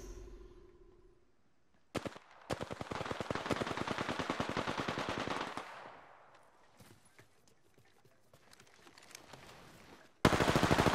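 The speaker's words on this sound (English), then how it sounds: "The enemies are shooting at me." Automatic gunfire in the video game Apex Legends: a dense, loud burst of rapid shots that runs for several seconds, then scattered single reports, ending with another heavy volley.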